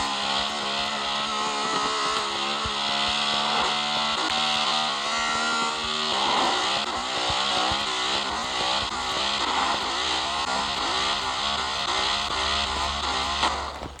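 A motorcycle engine screams at high revs and bounces off the rev limiter, a loud, sustained buzzing roar with rapid stuttering cuts that continues for the whole stretch without any voices.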